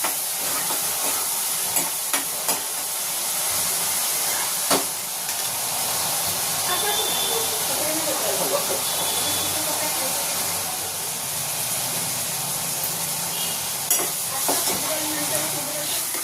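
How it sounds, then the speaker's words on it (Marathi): Chopped onions sautéed in oil until reddish-golden for misal: a steady, even sizzle and hiss held close, broken by occasional light clinks of a spatula against the pan. "कांद्याचा कलर चेंज होईपर्यंत आपण तो मस्त परतून घेणार आहोत"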